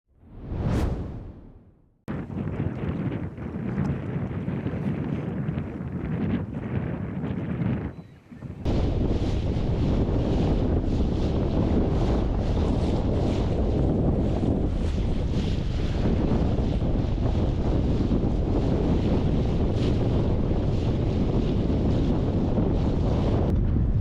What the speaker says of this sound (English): this wind's hard up here